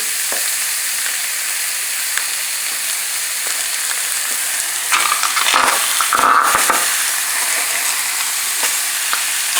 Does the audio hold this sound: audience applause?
no